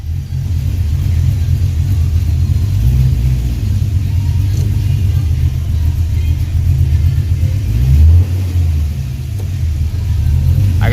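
A 1983 Oldsmobile Cutlass with T-tops idles with a deep, steady rumble close by, swelling briefly as the engine revs before settling back down.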